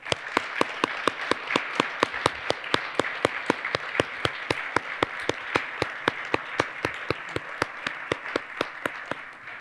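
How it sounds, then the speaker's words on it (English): Rhythmic, evenly spaced clapping at a college of engineering recognition celebration welcoming new faculty, sharp distinct claps repeating steadily for nearly ten seconds over a softer bed of crowd applause. "join me in welcoming them to the College of Engineering with a boisterous round of"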